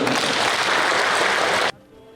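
An audience applauds the traffic police at an official event in West Papua, a steady, dense wash of clapping that cuts off abruptly partway through.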